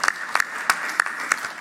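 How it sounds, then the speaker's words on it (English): Scattered hand claps from a small audience at a candidates forum, a few sharp slaps spaced irregularly over a steady background hiss. "give a round of applause to yourselves"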